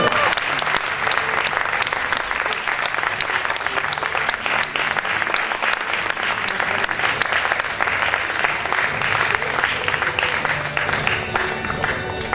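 At a Miss Aisne 2020 pageant, a large audience applauds the second runner-up with sustained, dense clapping and crowd noise, with faint voices mixed in throughout.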